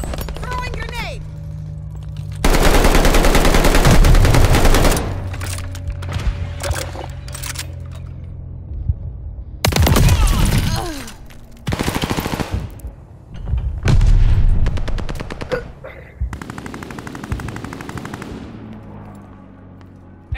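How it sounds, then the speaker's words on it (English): Rapid gunfire and grenade blasts in the Call of Duty Vanguard team deathmatch video game, loud bursts of automatic fire and booms separated by quieter gaps, with game voice callouts over the action. "Throwing grenade."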